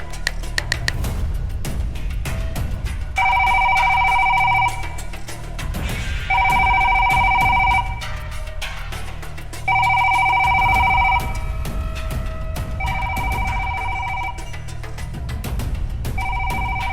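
A telephone bell rings in repeated electronic bursts that go unanswered, four or five rings with short gaps, loud and close over a low background rumble.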